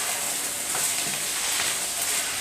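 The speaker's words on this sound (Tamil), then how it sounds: "உப்பு சேர்த்துட்டு எல்லாத்தையும் எண்ணெயில் நல்லா வதக்கிடலாம்." Drumstick leaves sautéing in oil with salt and sambar powder for a murungai keerai sambar give a steady, close sizzle and crackle with light stirring, alone and without talk.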